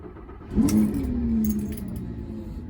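A Lamborghini engine cranks and fires into a loud starting roar after the key is turned, then settles into a steady idle rumble alone, with faint rattling near the start.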